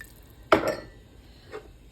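Water is poured into a pot of beef stroganoff in a home kitchen, one short splashing burst followed by a fainter second splash a moment later.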